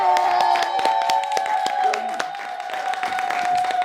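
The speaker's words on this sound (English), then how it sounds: "Ladies and gentlemen, please a round of applause for Right Honorable Emeka Ihedioha in the studio." Studio audience applauds for Right Honorable Emeka Ihedioha, Imo PDP gubernatorial candidate, with a steady wash of clapping mixed with a sustained musical tone and some voices underneath.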